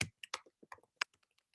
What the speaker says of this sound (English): you're going to type in a password that you can remember.